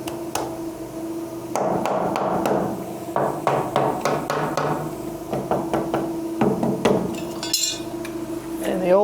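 Nails are hammered through a wooden stud into a base plate while framing a radius wall, giving a series of sharp, close hammer blows in quick irregular bursts against a steady room hum.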